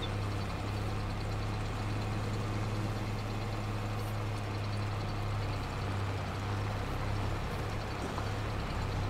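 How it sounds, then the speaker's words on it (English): A 6240 CVT tractor in Farming Simulator 22 idles steadily with a loud, continuous low engine hum and faint background noise, with no speech throughout. "I do like this style, it's a lovely tractor."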